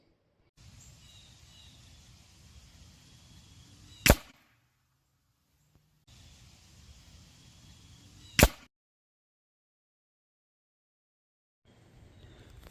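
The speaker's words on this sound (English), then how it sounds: "it was actually the pellet hitting the block" Air rifle pellet or slug striking a ballistic gel block downrange, heard as two sharp, distinct impact cracks several seconds apart, each following a stretch of faint outdoor background hiss, with a dull woody knock to each hit.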